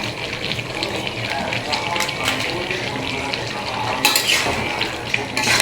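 Potatoes sauté in a pan for a regular chicken curry, with continuous sizzling and clinking of a utensil against the pan, close and fairly loud, a couple of sharper scrapes near the end.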